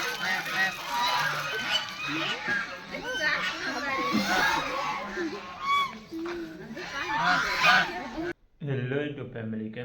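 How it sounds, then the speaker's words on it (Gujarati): A flock of geese honks loudly and continuously, many birds calling over one another, then the noise cuts off abruptly near the end. "જો આ યુગભાઈ અમારા હંસ"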